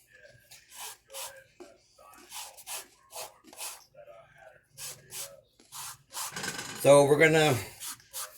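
An orange being zested over a grater for cranberry sauce, with short scraping rubs between bursts of a person talking, ending in a louder, longer rasping stroke.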